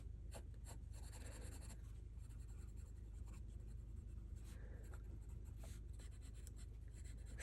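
Pencil drawing a horse's head on small paper for a one-point perspective sketch, soft continuous scratching strokes up close with a few sharper taps, no voices.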